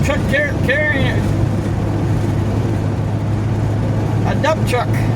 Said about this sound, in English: A dump truck.